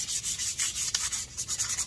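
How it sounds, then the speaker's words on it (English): A hand scuff-sands an MDF jewelry box in quick, short back-and-forth rubbing strokes, close and dry-sounding, with no voices. "do a little bit of a scuff sand, just a little bit"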